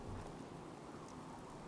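Rain falls in Fallout 4, a soft, even downpour with a low rumble of thunder underneath, steady and distant at a quiet level.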